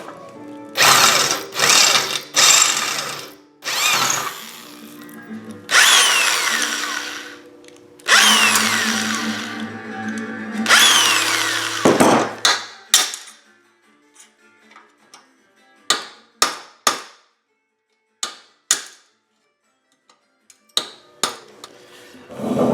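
A power drill whirs in several bursts of varying length while drilling out a rivet on a boom, then gives way to a string of short, sharp metallic taps and clicks.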